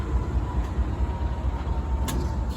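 A GE Dash 8 locomotive with a B-B wheel arrangement rolls past, a heavy, steady low rumble close by with faint clatter on top.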